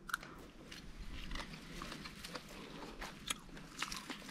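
Fresh strawberries picked straight from the plant outdoors, bitten and chewed close up with soft, wet crunches spread through a steady background of outdoor noise.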